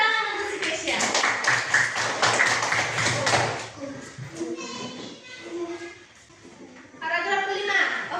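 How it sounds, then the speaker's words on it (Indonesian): A primary school classroom of pupils clapping together for a classmate, a brisk burst of many hands lasting a few seconds before a teacher's voice and children's chatter take over. "tepuk tangan untuk si Kesia"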